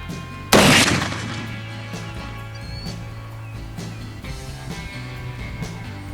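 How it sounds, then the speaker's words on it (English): A single shot from a .50 caliber muzzleloader rifle fired at a target, one sharp loud blast near the start that decays quickly into quiet outdoor background. "I will be shooting the right target."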